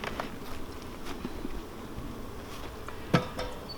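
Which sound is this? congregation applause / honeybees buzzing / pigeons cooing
honeybees buzzing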